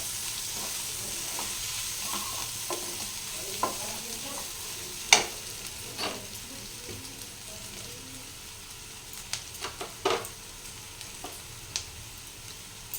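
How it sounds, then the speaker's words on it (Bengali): Spice masala with Kashmiri chilli fries for a jackfruit and potato curry, giving a low continuous sizzle close by, with scattered clicks and scrapes of a spoon stirring the pan and no voices. "আমাকে ভালোভাবে এটা কষতে হবে লাল লাল করে ভেজে নেব আমি মশলাটা"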